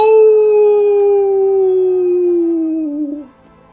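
A long, loud, blood-curdling howl, like a wolf or dog, holds one wavering pitch and slowly falls for about three seconds before breaking off, heard alone and close.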